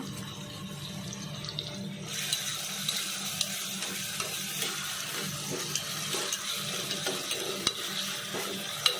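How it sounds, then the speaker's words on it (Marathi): Food stir-fried in a pan, a steady close sizzle broken by irregular scraping and clinking stirs, with no talking. "आता आपण यांना चांगलं परतून घेऊया."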